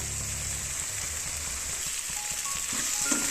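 Spiced egg masala fries in a pan with a steady close sizzle, while soft scraping from stirring picks up near the end and no one talks.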